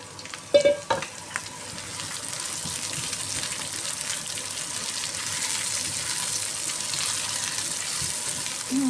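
Sponge gourd dropped into a pan to fry with baby shrimp, a couple of sharp knocks at the start, then a steady close sizzle that holds on evenly.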